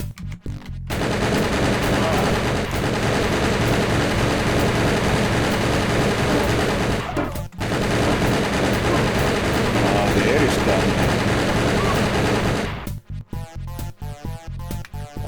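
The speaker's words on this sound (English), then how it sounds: "I hear gun." Gunfire in a first-person shooter video game: sustained, dense automatic bursts fill nearly the whole stretch, loud and close, with a brief gap partway and staccato shots trailing off at the end.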